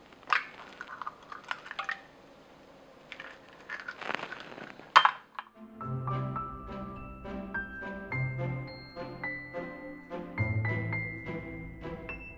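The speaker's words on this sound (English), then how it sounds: "To cool it down, we're gonna go ahead and add in 100 ml of whole milk. Give it a good stir up here." Cooked paste stirred in a pot after whole milk is added: scattered clinks and scrapes of a utensil against cookware, followed by a run of sharper, ringing metallic taps, close and moderately loud with no talking.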